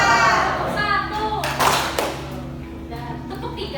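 Children clap in rhythm during a classroom clapping game, a few short bursts of close hand claps mixed with kids' voices and a teacher speaking.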